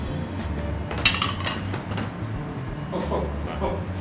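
Metal utensils scrape and clink against a frying pan as food is served, with a sharper clatter early on and quieter scraping after, close by.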